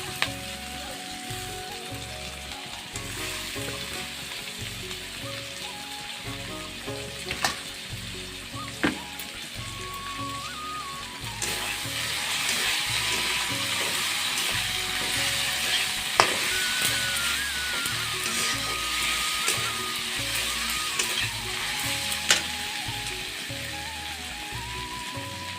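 Battered fish fritters sizzle steadily in hot oil, a continuous crackling fry that grows louder and denser partway through, with occasional stirring clinks and no talk.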